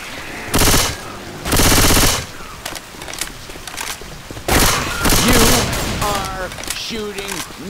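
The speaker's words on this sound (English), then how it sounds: "Try shooting some damn zombies instead of me." Automatic gunfire from a teammate in the zombie shooter game Left 4 Dead 2, loud sustained bursts of rapid shots separated by short pauses, with voices talking in between.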